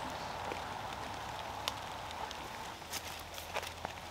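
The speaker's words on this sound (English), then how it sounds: "Hopefully you can at least hear the sound of the rain." Rain falls steadily on a quarter-acre homestead garden, a constant broadband patter with a few sharper drops, mixed with faint background road noise; no one speaks.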